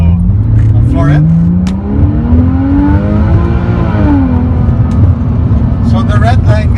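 A 2005 Porsche 911 Carrera S 997 accelerating at full throttle from inside the cabin, engine note loud and rising steadily through the gears, with someone talking over it.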